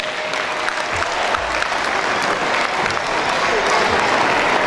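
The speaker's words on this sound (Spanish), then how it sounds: "Fuerte el aplauso también para ellas." A crowd at a daycare's Children's Day celebration gives sustained, dense applause, steady and loud throughout with no voices standing out.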